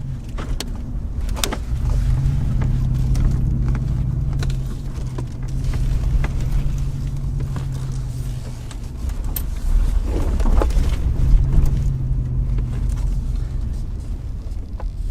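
Small car driving along with steady low road and engine rumble and a few interior knocks and rattles, loud and continuous throughout, no talk.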